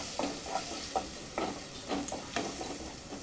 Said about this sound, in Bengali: এবার আমি নাড়াচাড়া করে নেব